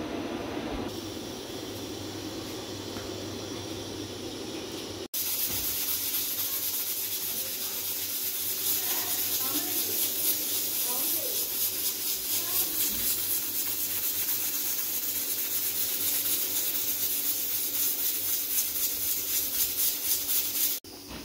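A pressure cooker hisses steadily on the stove while potatoes cook, a continuous broadband steam rush that starts abruptly and holds loud for most of the stretch, with faint kitchen clatter underneath.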